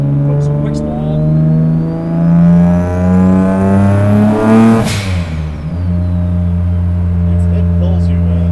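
A 600HP single-turbo Nissan 350z engine revs and pulls hard, its pitch climbing through a sustained acceleration, then cutting back and settling into a lower steady drone; loud and close.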